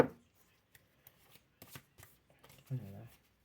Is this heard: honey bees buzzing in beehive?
no